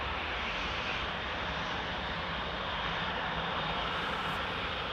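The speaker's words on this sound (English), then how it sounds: "There's the A380." An Airbus A380 jet airliner at Amsterdam Schiphol Airport gives off a steady, broad engine roar that holds evenly throughout, with no talk over it.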